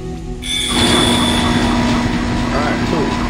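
Tram car from the video game Dead Space starting up and running, a loud, broad rumbling roar with a steady mechanical hum that rises quickly and holds; no speech within.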